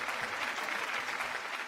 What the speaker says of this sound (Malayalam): ആഞ്ഞു കൈയടിച്ചേ.